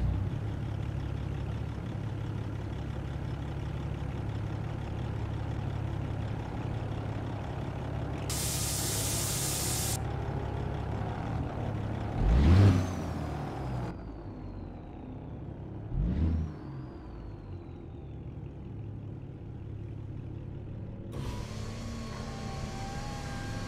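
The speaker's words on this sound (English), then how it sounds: "Slob Jerry's Cat C15 6NZ 625 horse. It's one of my favorite engines right here" A custom Kenworth T6xx truck with a Cat C15 engine in a driving game cranks and fires up amid steady idle rumble and air hiss, with two louder start bursts and bright spray-like blasts of air.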